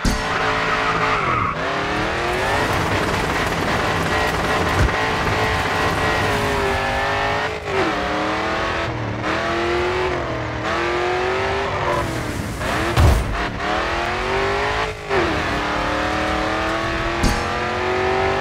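A car drifting in GRID 2, engine revving and dropping in repeated sweeps while tires squeal through the turns, loud and close, with no talking.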